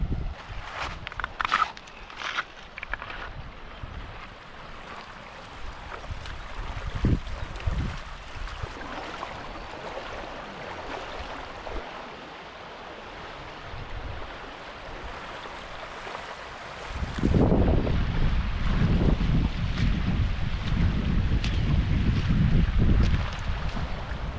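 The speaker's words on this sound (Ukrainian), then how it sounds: "Зараз буду тут переходити річку. Бачу, тут вода мілка" Water splashes and sloshes as someone wades through a shallow stream, the churning getting louder partway through, with wind buffeting the microphone.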